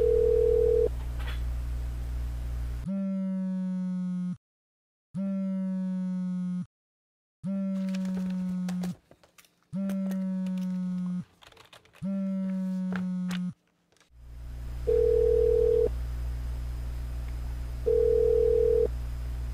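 A telephone ringback tone sounds in regular repeated pulses with silent gaps, followed by a few higher electronic beeps as the unanswered call goes to voicemail; no one speaks.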